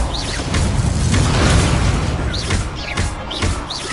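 Fiery Confringo blast spells from the Hogwarts Legacy video game burst loudly and repeatedly over a dense rumbling backdrop, with several sharp whooshing pops and booms cutting through the game's steady din.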